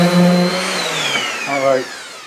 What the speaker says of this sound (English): I think I'm going to pass the sander across.